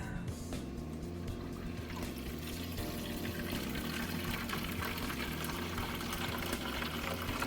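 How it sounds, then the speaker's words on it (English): Water drains through a bell siphon in a fill-and-drain aquaponics system, a continuous gurgling, pouring rush with bubbling texture, steady and close. "which means the bell siphon is working, and it keeps draining"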